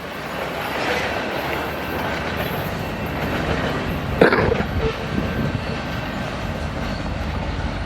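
An empty westbound CN grain train, led by CN locomotives 2254, 3138 and 3119, rolls past near Battle Creek, Michigan, with a continuous close rumble of wagons on the rails and a sharp metallic clank midway.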